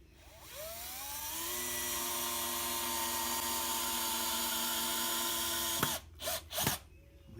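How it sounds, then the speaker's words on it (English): A power drill whines steadily for about five seconds as it sinks screws into wood for a DIY rifle target stand, then stops with a click, followed by two short bursts as the screws are driven home. "Just to sink those screws just so they go below the wood line and they're locked in good"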